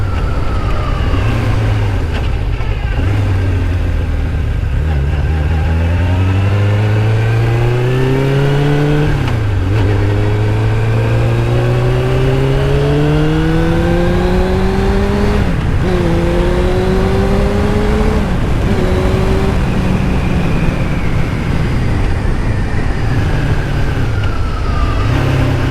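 A Suzuki Katana motorcycle engine revs up through the gears on a ride, pitch climbing steadily then dropping sharply at each shift, loud and close with wind rush throughout.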